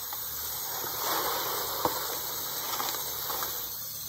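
Dyed pine needles being rinsed under running water, a soft steady hiss of spray with faint patter and a small clink partway through, fairly close.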